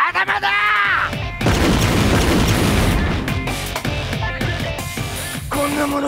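A loud blast effect booms during a live Jujutsu Kaisen stage play dress rehearsal, a brief vocal sound leading into a sudden broadband crash that rumbles on for several seconds, with performers' voices breaking through near the end.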